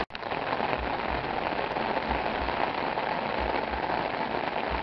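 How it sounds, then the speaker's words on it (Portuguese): Steady, dense night rainfall pattering on a surface, continuous and fairly loud throughout with no voices. "essa chuva maravilhosa que cai agora, nessa noite"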